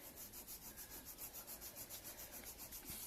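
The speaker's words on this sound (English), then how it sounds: "So I'm fanning my sanding" Fine sandpaper rubs in a steady back-and-forth rhythm over the halves of an aulos reed cap, quiet and close, about eight even strokes per couple of seconds with no talking.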